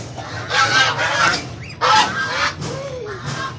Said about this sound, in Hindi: ये डक्स का पूरा झुंड है।